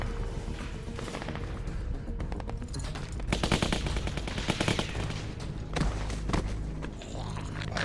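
Sustained automatic AK rifle fire in The Walking Dead game, dense rattling bursts that swell and fade over several seconds, heard at a moderate distance without speech.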